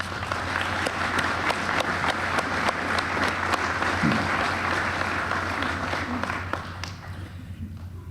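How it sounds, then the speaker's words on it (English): A school dedication audience claps steadily for about seven seconds, a dense sustained patter of many hands that thins and fades out near the end, with a faint low hum underneath. "Let's give them a round of applause."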